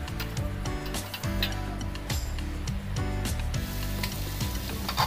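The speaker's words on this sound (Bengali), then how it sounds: "ভুঁড়িটা আমি কিছুক্ষণ কষিয়ে নেব।" Beef tripe sautés in a pan, sizzling steadily while a spatula scrapes and stirs in regular strokes roughly every second, close and fairly loud, with no voices.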